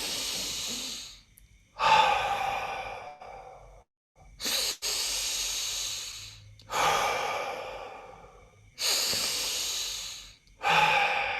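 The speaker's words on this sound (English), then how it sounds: "I'm going to breathe as deep as I can without tensing, but just really big. And then I'll just kind of blow it out, let it out." Deep breaths drawn in through the nose and blown fully out through the mouth during breathwork, about five long, airy exhales separated by short silences and quieter inhales, close and unhurried, with no talk.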